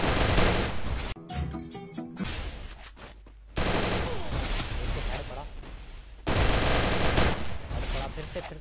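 Heavy automatic gunfire from a multiplayer shooter video game, loud rapid bursts in three long stretches separated by brief lulls and sharper single shots, with no speech in between.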